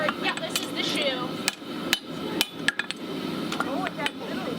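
A farrier hammers a steel horseshoe onto a horse's hoof at a carriage-tour ranch, sharp metallic strikes ringing out in an irregular series of close, distinct blows between quieter scraping and handling.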